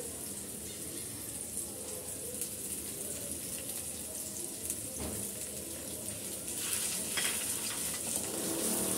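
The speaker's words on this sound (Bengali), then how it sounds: "আমি ভালো করে একটু কষিয়ে নেব" A paste of ground coconut and mustard being sautéed in a pan, making a steady close hiss and sizzle throughout, with a few soft scraping stirs and a slight rise in intensity near the end.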